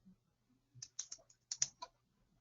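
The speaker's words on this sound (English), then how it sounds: "Yes, I'm typing it." Typing on a computer keyboard during a live business analyst class, with several quick clustered keystroke clicks, fairly close and clear, separated by short quiet gaps.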